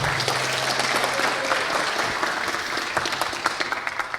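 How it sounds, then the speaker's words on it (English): A crowd applauds steadily, a dense, sustained clatter of many hands clapping throughout. "Give him an applause."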